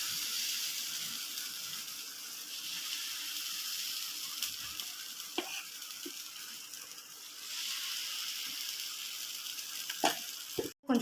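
Uthappam batter sizzles on a hot tawa, a steady moderate hiss with a few faint clicks and scrapes, ending in a couple of sharper knocks.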